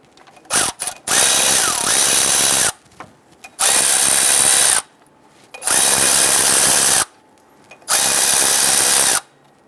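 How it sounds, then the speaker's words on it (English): A power tool whirs in four long bursts separated by brief pauses, loud and close, removing water pump pulley bolts on a 1994-2004 Ford Mustang 3.8L V6, with a ratcheting mechanical buzz throughout. "Remove the water pump pulley bolts the rest of the way."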